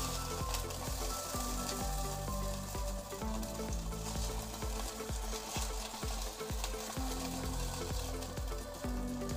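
Potato pancakes sizzle and crackle loudly in hot oil, a dense continuous frying hiss with occasional scrapes from stirring.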